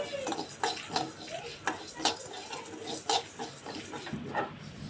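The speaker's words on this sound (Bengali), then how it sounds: "একটু হালকা নেড়েচেড়ে ভেজে নেব।" Chillies and spices are stirred and lightly fried together in a pan for homemade mango oil pickle, a spoon clinking and scraping in quick, irregular strokes close by over a faint sizzle.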